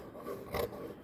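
Blouse fabric for a lined princess-cut blouse being cut, giving one brief raspy swish of the blade through cloth in the middle of an otherwise quiet moment.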